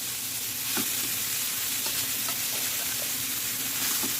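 About 400 grams of khoa roasts in a kadai with a steady close sizzle and hiss, broken by soft scraping stirs from a spatula at irregular intervals, with no talking.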